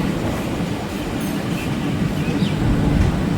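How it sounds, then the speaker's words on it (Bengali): A train runs on rails after leaving Howrah station, a loud steady rumble with rattling carriages and faint wheel squeals rising slightly toward the end, with no talk. "ট্রেন তো নির্ধারিত টাইম নিয়ে হাওড়া থেকে ছেড়ে দিয়েছে"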